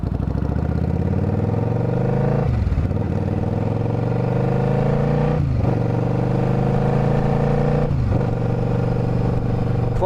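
Steady engine drone from a Suzuki Marauder VZ800 motorcycle cruising down the road, broken by three gear changes at even intervals where the revs dip and climb again. The engine is loud and near, with no speech.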